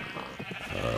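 Sheep bleats from Minecraft, a short game bleat heard once over a steady low background, fairly close and clear, with no talking.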